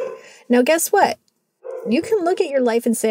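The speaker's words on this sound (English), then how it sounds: "I am sorry if you can hear my dogs in the background barking." Dogs bark in the background, short yips and woofs mixed under a woman's steady speech, with a brief pause in talking midway.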